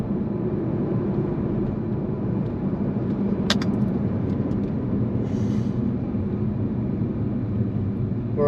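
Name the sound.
Jaguar XJ engine revving in manual mode, diesel-like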